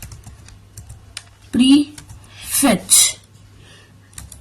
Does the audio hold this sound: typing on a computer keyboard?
yes